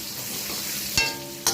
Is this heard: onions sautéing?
yes